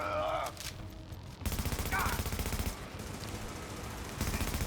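Video game gunfire: rapid automatic bursts rattle close and loud, a continuous fusillade broken by a brief pause, with a voice faintly heard in the mix.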